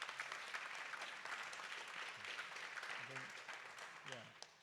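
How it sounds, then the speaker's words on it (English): An audience at a mobility technology event claps in a sustained, moderately distant patter, with a few voices cutting through the applause toward the end. "we should give an applause here for another exit in Singapore."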